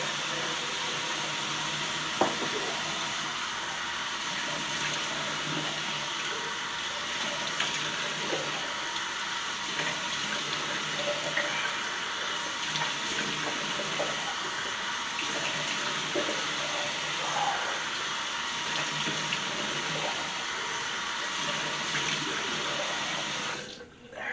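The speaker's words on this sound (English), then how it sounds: "So we're just gonna let the water heat up" Water runs steadily from a tap into a bathroom sink as it heats up, a constant close splashing hiss that holds for the whole stretch and cuts off at the end.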